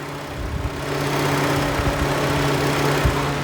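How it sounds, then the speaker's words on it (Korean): A steady, quiet gasoline six-cylinder engine of a 2011 SsangYong Chairman H 500S idles smoothly, a low hum with a faint even drone and no other sounds. "엔진 소음 또한 굉장히 정숙합니다. 들려드릴게요"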